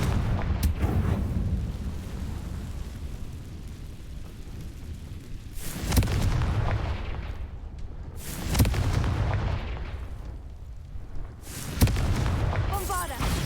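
Confringo fire-blast spells cast in the Hogwarts Legacy video game: three loud, booming blasts land at regular intervals over a continuous rumbling battle bed, with a voice heard among them.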